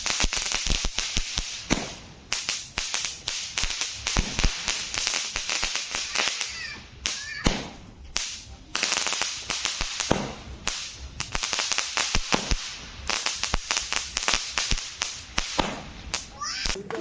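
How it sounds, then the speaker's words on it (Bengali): Firecrackers are set off outdoors for a New Year celebration, a rapid crackling string of sharp pops and snaps that bursts in clusters, with brief lulls and faint background voices. "তো তখন আমরা এবার একটা বাজি ফুটিয়ে নিলাম, বাজি ফুটিয়ে হ্যাপি নিউ ইয়ার সেলিব্রেট করলাম।"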